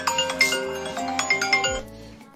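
A mobile phone rings indoors with a bright, steady electronic ringtone melody of repeating tonal notes for about two seconds, fairly close, then cuts off. No one speaks over it.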